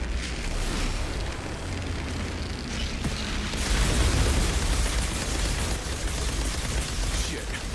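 Continuous roaring explosions and fiery blasts from combat in the video game Outriders Worldslayer, loud and dense, with a heavier surge of booms midway and no talking.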